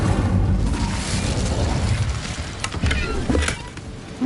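The Incendio fire spell in Hogwarts Legacy goes off as a soft rushing whoosh that swells into muffled booming crackles against a low background rumble.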